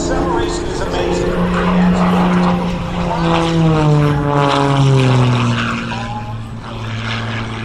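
An MXS aerobatic propeller plane's engine drones loudly and continuously at an air show, its pitch sliding down and then rising as the aircraft maneuvers and slows, with a voice talking over it.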